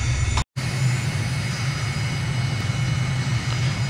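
A Microsoft Flight Simulator aircraft engine at full throttle for takeoff in Nigeria gives a steady, loud, low droning roar with a constant whine above it, broken by one brief dropout.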